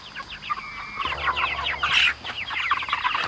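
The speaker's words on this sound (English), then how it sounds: "20 chickens in here, 20 chickens in there." Chickens in a pasture pen cluck in a steady, busy stream of short calls, fairly close and loud, with no voices over them.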